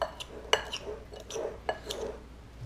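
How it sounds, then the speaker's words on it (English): Mango avocado salsa with spices stirred in a bowl, soft irregular clinks and scrapes of a utensil against the dish, close and quiet. "Okay, so mix all that up."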